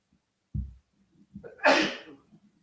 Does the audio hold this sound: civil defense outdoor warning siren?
no